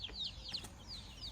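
Short bird calls and clucks from chickens, attributed to a big rooster guarding chicks in a home garden, a few chirpy calls over a low rumble of background noise, no one speaking.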